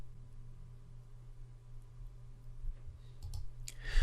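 A few faint mouse clicks on a computer, made while working in ClickFunnels software, arrive close together near the end over a steady low electrical hum.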